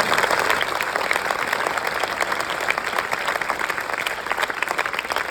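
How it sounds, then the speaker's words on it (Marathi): Dense crowd applause at a birthday honour ceremony for a legislator, steady loud clapping from many hands that fills the whole stretch without pause. "पुन्हा एकदा जोरदार आंदोलनासाठी टाळ्या वाजवल्या पाहिजे"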